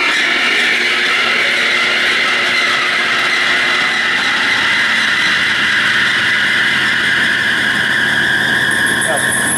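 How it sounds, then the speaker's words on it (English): A Bliss C2-100 100-ton double-crank OBI gap frame press motor runs steadily with a continuous high belt squeal, a loud, unbroken whine sustained close by throughout. "Got a little squeal to it, but I don't like going real tight with the belts."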